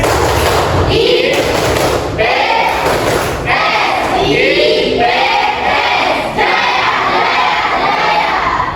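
Schoolchildren in a classroom performing a rhythmic clapping chant, loud group shouting with thumping claps in repeated patterned bursts, close and energetic.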